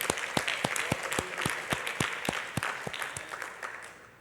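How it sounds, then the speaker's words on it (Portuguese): A church congregation claps steadily, with sharp, regular claps standing out over a dense spread of hand clapping; no voices. "vamos bater palmas"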